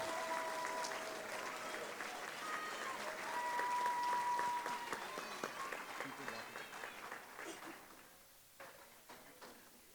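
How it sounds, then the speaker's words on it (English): An audience at a school board meeting gives a burst of applause, loud at first and then thinning into scattered claps; a voice speaks over the clapping. "can you please give a warm welcome and round of applause for Ms. Lupita Pina"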